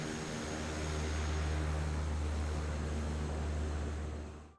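Twin Otter firefighting floatplane engines in Microsoft Flight Simulator 2024 drone with a loud, steady propeller roar and low hum for several seconds, then cut off abruptly at the end.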